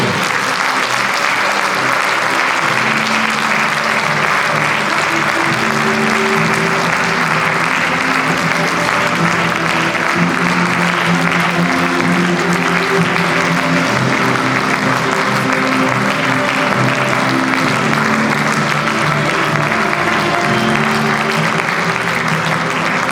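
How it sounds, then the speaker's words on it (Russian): Sustained applause from a seated audience at the award ceremony of a contest final, as a diploma and certificate are presented; dense, steady clapping fills the hall at constant loudness for over twenty seconds with no voices over it. "Аплодисменты."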